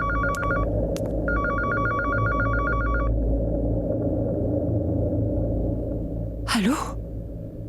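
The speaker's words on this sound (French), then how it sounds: "Allô? Allô, Raki Lutra? C'est moi." A telephone rings in a domestic drama scene, two short electronic trills and then a longer burst of rapid ringing over a low rumbling background, followed by a brief whooshing swish.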